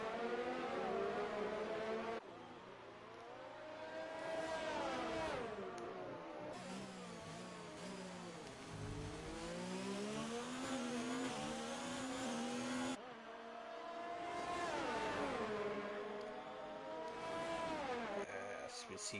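Race cars in a Bahrain round of a racing video game sweep past with high, whining engines rising and falling through gear changes, loud and continuous, with overlapping passes.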